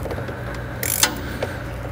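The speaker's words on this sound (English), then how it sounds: "start taking off our throttle body side for the stock tube with a 7mm socket" A ratchet with a 7mm socket loosens the throttle-body-side clamp on the stock charge tube of a Can-Am Maverick X3. It makes one short, close burst of clicking against a quiet background.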